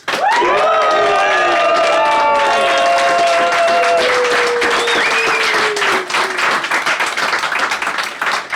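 Loud audience applause and cheering fill the space, a dense continuous clatter of clapping with whoops and shouts rising over it.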